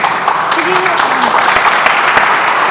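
An audience at a port administration building event claps for its panelists in a brief, fairly loud burst of applause, with voices mixed in.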